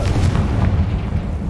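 A Confringo spell explodes in Hogwarts Legacy: a loud, deep, rumbling blast that rolls on for over a second with no voices over it.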